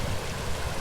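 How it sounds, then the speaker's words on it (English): Steady broadband rush of a small cascade tumbling down a little valley stream, continuous and fairly close, with no voices. "one of the bigger cascades along this little valley here"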